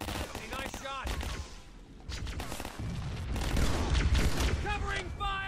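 Gunfire and a grenade explosion in the Halo SPV1 video game, rapid close shots and bursts mixed with in-game voices, swelling into a louder sustained blast and rumble in the second half.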